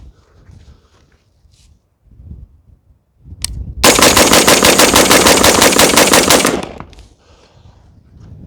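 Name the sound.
AR-15 rifle rapid fire, emptying the magazine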